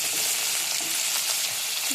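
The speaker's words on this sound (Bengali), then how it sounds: "এখন পেঁয়াজ রসুন একসঙ্গে দিয়ে দিচ্ছি।" Onion and garlic fry together in hot oil for a dried fish curry, a constant close crackling sizzle with occasional stirring scrapes and no talk.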